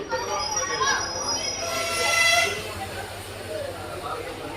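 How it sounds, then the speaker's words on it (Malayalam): Rameswaram passenger train pulling out of Mandapam railway station, a low rumble with wheel squeal and rail noise, moderately loud, under someone talking. "നമ്മുടെ ട്രെയിൻ എങ്ങനെ അപ്പോൾ മണ്ഡപം റെയിൽവേ സ്റ്റേഷൻ നിന്ന് ഇപ്പോൾ വീണ്ടും പുറപ്പെട്ടിരിക്കുകയാണ്"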